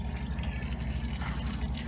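Oil drips steadily from the oil filter of a 2012 Ford F-150 5.0 during an oil change, a soft, continuous trickle heard up close with no talking.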